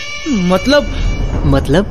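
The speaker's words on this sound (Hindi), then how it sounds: "ये तो उसी बिल्ली की आवाज है।" A cat gives two drawn-out meows in quick succession, close and clear, with a single spoken word slipped between them.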